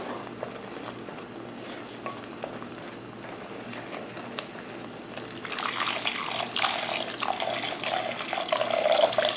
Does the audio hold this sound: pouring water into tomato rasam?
yes